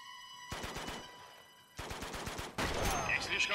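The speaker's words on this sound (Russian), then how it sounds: "Он стреляет." Bursts of rapid gunfire in the video game Uncharted, a volley that fades, another burst, then a loud sustained stretch of shooting, with a voice briefly talking over it.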